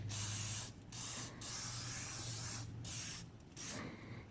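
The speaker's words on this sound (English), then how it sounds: "Some WD-40 is good enough, I think, for that." WD-40 penetrating oil is sprayed onto a vehicle's front springs in several short hissing bursts, close and fairly loud, separated by brief pauses.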